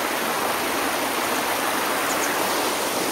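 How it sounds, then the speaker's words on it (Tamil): Water rushes steadily along a stream at Anguthi Sunai Falls, a constant broad hiss with no voices. "அப்படியே அற்புதமாக தண்ணி போகுது பாருங்க"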